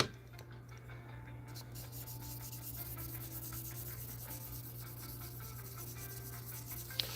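Steady wet sanding of a finish by hand with 800 grit sandpaper, a soft continuous rubbing hiss at moderate level, close and alone, with no talk over it.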